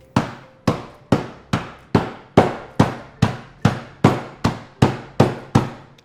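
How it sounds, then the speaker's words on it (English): A hammer crushes Oreo cookies in a bag, striking over and over in a steady rhythm, about two blows per second, each a sharp, loud thud on something crunchy, close by. "You can also do this in a food processor, but I'm using a hammer."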